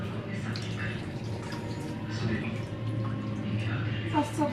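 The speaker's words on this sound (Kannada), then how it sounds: "ಫಸ್ಟ್ ಸ್ವಲ್ಪ ವಾಶ್ ಮಾಡಿಟ್ಕೋತೀನಿ." Vegetables for a field bean and fenugreek stir-fry being washed in water at home: steady splashing and trickling with drips, mid-level and close, under someone talking.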